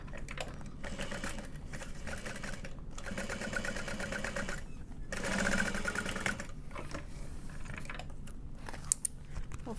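A sewing machine stitches a seam on a fabric bag, running in several steady rapid bursts separated by short pauses, close and clear.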